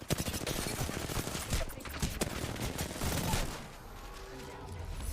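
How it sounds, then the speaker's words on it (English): Enemy gunfire in the battle-royale game Apex Legends: dense, rapid bursts of shots, loud and close, crackling for about three and a half seconds before easing into quieter background noise. "The enemies are shooting at me."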